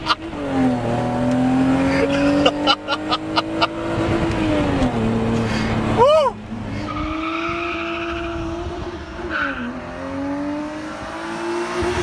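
A 2.7-litre sports car engine revs hard and loud up close, climbing and falling through several throttle blips with a sharp rising sweep near the middle, then settling into a steady drone.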